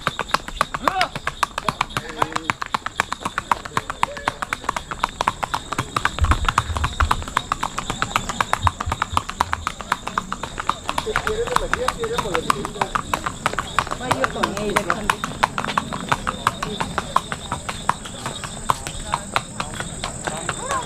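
Steady clip-clop of horse hooves in Islamabad runs throughout, with people talking over it and a constant high insect-like hum in the background.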